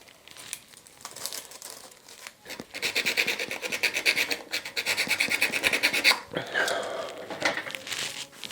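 Sandpaper wrapped around a pen rasps inside a drilled hole in a homemade ACES II ejection seat part, a close, scratchy back-and-forth filing that runs in dense bursts with brief pauses.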